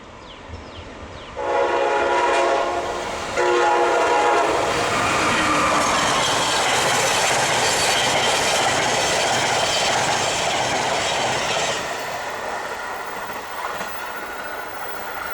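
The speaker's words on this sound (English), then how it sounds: "One of those Siemens locomotives," A northbound train hauled by a Siemens electric locomotive rolls past, a loud sustained rumble and rush of wheels with a horn blast near the start, staying strong throughout before easing slightly toward the end.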